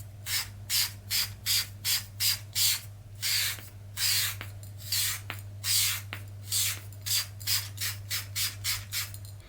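A fine-mist facial spray bottle is pumped repeatedly, each press a short hissing burst in an irregular series of about twenty sprays, close and fairly loud, over a low steady background hum.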